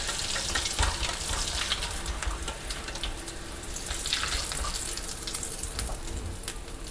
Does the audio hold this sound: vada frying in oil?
yes